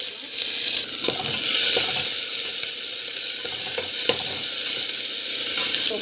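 Garlic, onion, mustard seeds and cumin sautéing in hot oil in a pan, a steady loud broadband sizzle with a few sharp clicks of a stirring spoon scattered throughout, no talking.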